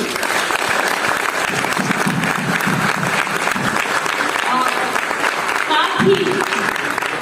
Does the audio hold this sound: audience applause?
yes